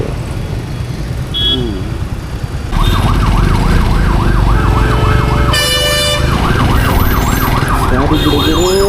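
An ambulance siren wails loudly and repeatedly in traffic in Hubballi-Dharwad, heard from a motorbike. It starts about three seconds in, with a high rapid yelp over road noise partway through.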